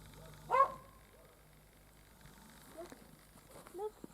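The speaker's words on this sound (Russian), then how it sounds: "Там лает." A couple of faint dog barks at a distance, one early and a few later, over quiet background with soft voices.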